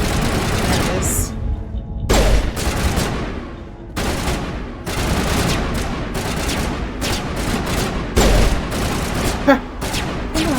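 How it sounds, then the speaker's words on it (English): Bursts of gunfire in the video game Mass Effect: Legendary Edition, loud and dense volleys with short pauses between them, repeating rapid shots mixed with heavier booms. "What the heck are you shooting at?"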